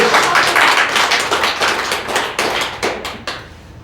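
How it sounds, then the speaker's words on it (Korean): Audience clapping during a church sermon, a loose burst of many hands that starts full and thins out over a few seconds, with scattered last claps at the end. "박수 한번 쳐라."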